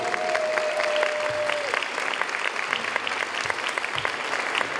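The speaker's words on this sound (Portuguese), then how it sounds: "Mais uma salva de palmas para Liege." A street-art show audience gives a performer a loud, dense round of applause that holds steady throughout, with a brief tone audible near the start.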